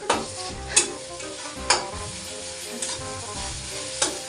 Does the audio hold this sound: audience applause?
no